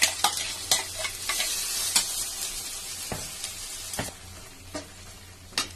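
Ground masala fries in a pan for chicken curry, a steady sizzle broken by repeated sharp clinks and scrapes of a spoon stirring against the metal.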